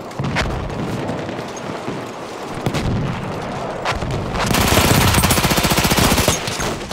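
In the Battlefield 1 video game, a dense battlefield soundscape carries repeated loud gunshots and booming artillery. Rapid machine-gun bursts rattle near the end.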